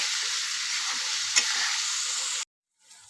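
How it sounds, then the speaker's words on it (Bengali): Spice paste with salt frying and being stirred in a pan for country chicken curry: a steady, close hiss of sizzling oil with one brief scrape, cutting off abruptly into silence. "আমি এবার মশলাটাকে ভালো করে কষিয়ে নেব"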